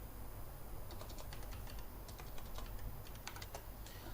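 Rapid, irregular clicks of keys being pressed on a computer keyboard, fairly faint over a steady background hiss, with no voices.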